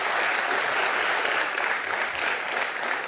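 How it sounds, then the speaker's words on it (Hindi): Loud, dense applause from a live audience at an interview event, a steady unbroken wash of many hands clapping together for about three seconds with no talking on top. "जितनी ज्यादा जोर से हम ताली मार सकें"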